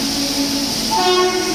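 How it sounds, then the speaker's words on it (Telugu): A Tirupati-to-Goa (Vasco da Gama) passenger train rumbles loudly as it starts moving, with a sustained horn tone sounding and shifting pitch partway through. "సో ట్రైన్ అయితే బయలుదేరుతుంది"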